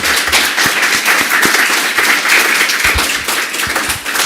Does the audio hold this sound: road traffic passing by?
no